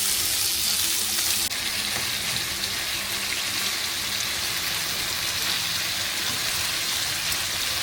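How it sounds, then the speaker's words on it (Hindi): Chicken tikka pieces fry in a pan for a homemade chicken tikka masala, giving a loud, dense, continuous sizzle with no pauses. "तो चले मैं आपके पास फिर ये सारी फ्राई कर लेता हूँ।"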